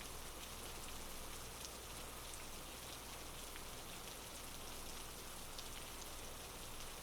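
Rain falls steadily as a soft, continuous wash of drops on a surface, even and unbroken throughout, with no voices.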